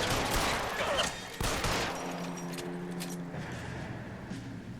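Rifle gunfire in the video game L.A. Noire: several sharp, loud shots and bursts in quick succession near the start, followed by fading rumble and echoing tones.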